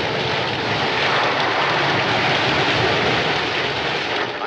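A propeller plane flying low over the Pacific through a violent storm, its engine drone steady and loud throughout, blended with broadband rushing wind and rain noise, no voices.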